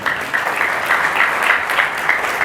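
Congregation clapping at a Sunday Christian worship service, a steady rhythmic applause filling the room with no talk over it.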